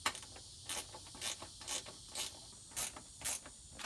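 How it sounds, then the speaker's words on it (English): Ratchet wrench tightening the mounting bolts of an ARB Safari snorkel on a Toyota Tundra/Sequoia, giving quiet, repeated short bursts of clicking about every half second, with no talking. "Put the last two bolts on, and once everything's in place, then we can start to tighten everything down."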